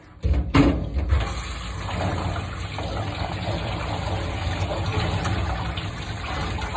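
Water from a grooming sprayer rinses a cat named Roxy during her second wash, a loud steady gushing spray that starts abruptly and runs close and continuous.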